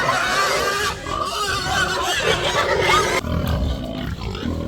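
Pigs grunt and oink on a farm as they are moved along, a busy run of close, rough calls with no pause.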